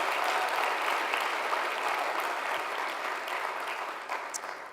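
A large crowd at a Lynn University event gives a round of applause for a national champion swimmer and her coach: broad, steady clapping that holds strong, then thins slightly toward the end.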